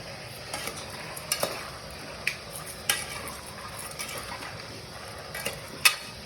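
Mutton with salt and turmeric stirred and dry-roasted in a pan, a low steady sizzle broken by scattered spoon scrapes and clinks against the metal.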